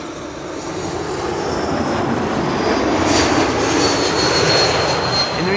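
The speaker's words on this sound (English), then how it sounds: "an E2 Embraer arriving from Oslo" An Embraer E2 jet arriving from Oslo at Schiphol's Kaagbaan runway, its engines a loud, close, steady roar with a high whine that builds gradually as it passes.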